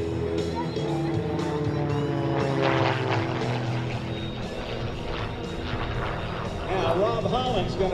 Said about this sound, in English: Rob Holland's going to bring it back into land here in just a moment